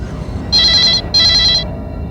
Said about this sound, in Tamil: Pick up the phone dear.